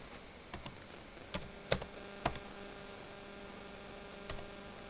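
Keystrokes tapped on a computer keyboard while entering router commands, a handful of sharp isolated clicks spaced irregularly over a low steady mains hum, close and fairly quiet with no talking.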